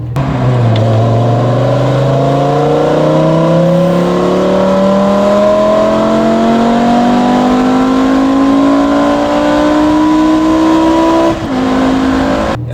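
A BMW M6 (E63) with a Supersprint aftermarket exhaust revs loudly up close, its pitch climbing steadily for several seconds before briefly dropping, a deep droning exhaust note.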